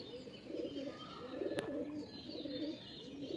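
Tournament pigeons in a loft cooing close by, a low throaty coo repeated in about three rolling phrases, with a single sharp click in the middle and no talking.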